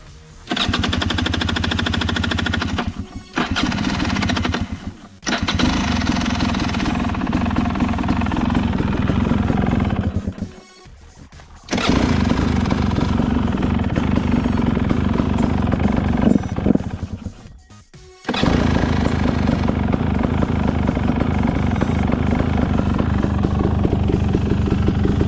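A 2018 TE250 two-stroke dirt bike fitted with a JD jet kit starts without choke and idles. The loud, raspy engine runs close by in long stretches, broken by a few brief dips and restarts.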